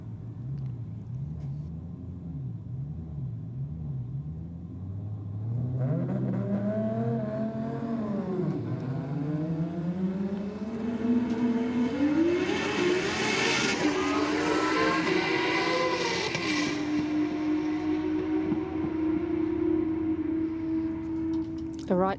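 Drag racing cars, including a Falcon, launch and accelerate hard down the strip at Sydney Dragway, engines rising from a low burble to a loud sustained roar, with a commentator talking over the noise.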